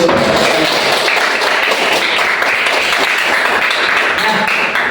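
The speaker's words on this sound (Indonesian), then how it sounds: "kita beri tepuk tangan dulu" A classroom of students claps together in sustained, dense applause that holds at an even, loud level for the whole stretch.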